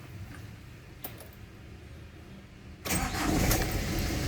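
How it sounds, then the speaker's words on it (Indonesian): Ford Ranger TDI turbo diesel engine starting: a quiet background hum, a brief crank, then the engine catches at about three seconds and settles into a louder, steady running rumble. "Oke, mungkin kita akan coba hidup untuk melihat spool turbonya di RPM berapa ya."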